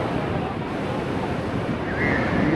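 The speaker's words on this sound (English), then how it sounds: "We are right at the base of the waterfall." Athirapally waterfall in Kerala heard from its base as a steady, loud broadband roar of falling water, continuous and close, with wind buffeting the microphone.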